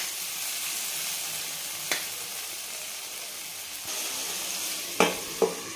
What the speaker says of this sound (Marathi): चांगलं तेल सुटेपर्यंत आपण ह्याला परतून घेणार आहे